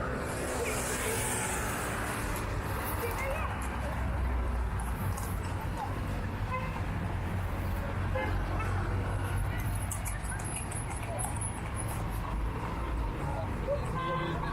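Continuous roar of street traffic and passing buses in Marrakech, Morocco, dense and steady throughout with engine rumble and a faint toot, close by and loud.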